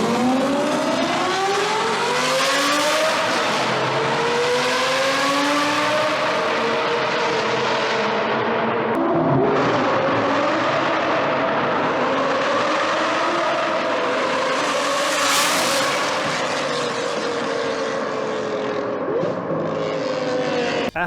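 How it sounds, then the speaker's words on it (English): Loud exhaust of a Lamborghini Gallardo with a 5-litre engine and a new exhaust system, roaring and revving continuously with rising and falling engine pitch, close and powerful throughout with no talking. "I've heard some really ridiculously good sounding exhaust on Lamborghinis"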